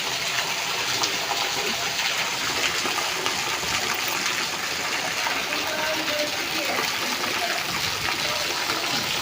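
Heavy rain pours down in a loud, unbroken rush, like water gushing from above, close by and steady throughout.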